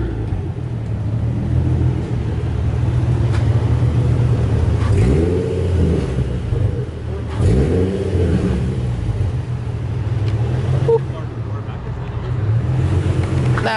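A car revs and accelerates hard during a street race among a Nissan 350Z, a Charger and a Golf, its engine rumbling loudly and surging in waves, with voices talking throughout.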